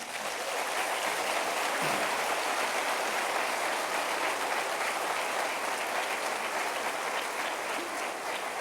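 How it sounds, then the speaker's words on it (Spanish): Sustained applause from a church congregation, a dense steady patter of clapping that carries on evenly throughout. "Dale un aplauso al Señor."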